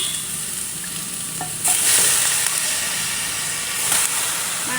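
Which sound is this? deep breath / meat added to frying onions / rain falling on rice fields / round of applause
meat added to frying onions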